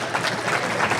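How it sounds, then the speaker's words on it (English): An audience applauding at a lecture: a brief, even burst of many hands clapping, fairly loud and continuous, with no talking over it. "people are applauding that"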